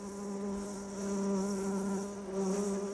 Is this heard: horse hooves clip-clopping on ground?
no